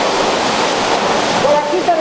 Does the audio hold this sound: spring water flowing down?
yes